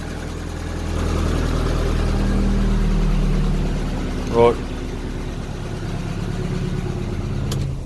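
Cold classic Ford Fiesta engine running without a radiator fitted after its immobiliser and alarm were removed, a steady low idle that swells briefly and settles, with someone speaking over it and a short clatter partway through.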